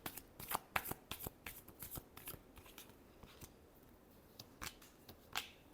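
Tarot cards being shuffled in a series of crisp riffling bursts and soft slaps, most dense in the first half and then sparser, close and fairly quiet, with no talking.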